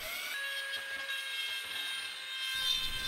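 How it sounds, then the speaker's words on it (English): A Dremel rotary tool grinds a channel into plastic inside a DIY PC case, producing a short, steady high-pitched whine with a raspy cutting texture. The tone holds evenly and then drops away near the end. "then I drilled a pilot holes and finished cleaning a so-called channel with a Dremel tool"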